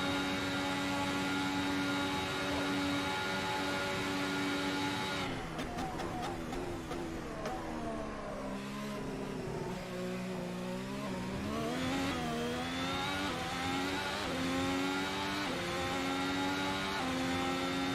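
A Ferrari SF70H Formula 1 car at Monza in the racing game Assetto Corsa: a loud, steady high-pitched engine whine that drops in pitch mid-clip, then climbs again as the revs build, heard alone without talk.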